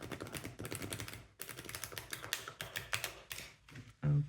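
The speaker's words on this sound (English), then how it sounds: "First I'm going to shuffle the deck like this in order to get some" A deck of tarot cards being shuffled by hand, a dense rapid run of close crisp riffling and tapping snaps, with a brief louder thump at the end.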